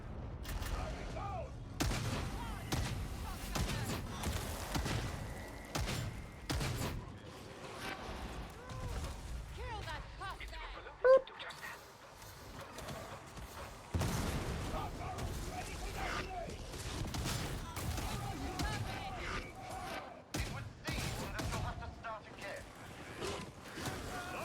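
Bursts of gunfire crackle through a Warhammer 40,000: Darktide firefight, with rapid shots and volleys coming in clusters, mixed with other combat noise and players talking over much of it.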